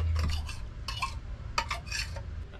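Chilli barramundi marinade of minced ingredients being stirred together in a bowl, with soft repeated scraping and clinking of a utensil at close range, no talking.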